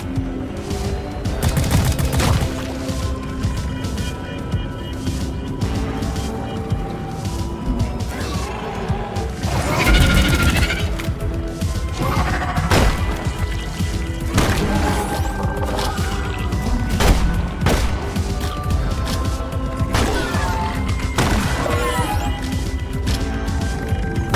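Gunfire and crashing impacts from the video game Deep Rock Galactic, dense and continuous throughout, with loud bursts and sharp hits layered over a constant roar of combat.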